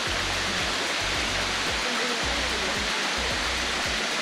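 Waterfall at Phu Kradueng heard from the top of the falls, a steady broadband rush of falling water, fairly distant and even, with faint low thumps underneath.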